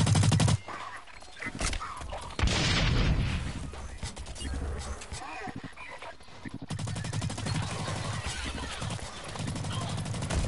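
Video game gunfire rings out in sharp, loud bursts, then settles into a long stretch of rapid automatic fire over busy background game noise.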